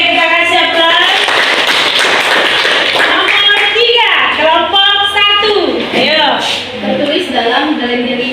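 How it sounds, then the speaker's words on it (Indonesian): A group applauds in a church or classroom gathering, a burst of clapping mixed with lively voices and children talking close by. "Oke, kita kasih aplaus."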